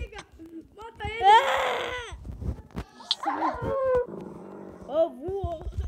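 Minecraft dogs howl, whimper and yip in a synthetic, game-like tone, several overlapping calls over a few seconds with brief bursts between.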